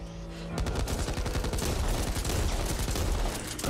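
An M249 machine gun in Back 4 Blood opens up after a brief pause and fires one loud, unbroken rapid burst up close for about three seconds.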